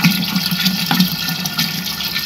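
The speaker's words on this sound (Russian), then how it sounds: "Делаю дозаправку парогенератора." Filtered reverse-osmosis water pours steadily into a steam generator in a home pear-brandy distilling setup, a close, continuous rushing gush with no voices.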